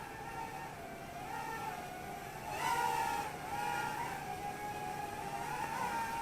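A Syma X20 micro drone spins up and lifts off, a thin high-pitched whine of small propellers that rises and wavers in pitch as the throttle increases, close by with no talking.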